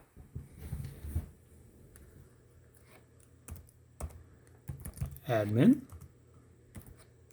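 Someone types login details on a computer keyboard during the setup of an Avigilon access-control appliance, producing short bursts of close key clicks. Brief speech comes in between the bursts.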